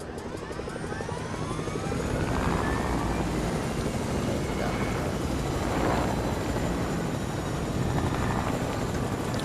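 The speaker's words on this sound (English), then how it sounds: "Alright, I'm gonna test out the choppas." A video game helicopter's rotor and engine roar steadily throughout, loud and close, with a rhythmic chopping beating under the drone, in a battle royale game.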